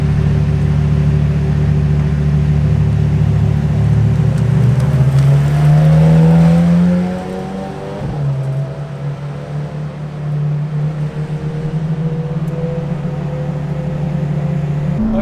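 A McLaren Senna engine runs in race mode, loud and close, holding a deep rumble and then revving with a rising, swelling pitch before settling back to a steady drone.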